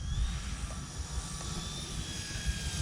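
An E-flite Turbo Timber RC plane with an electric motor comes in to land, its thin, steady motor whine carrying over constant wind-like rumble outdoors.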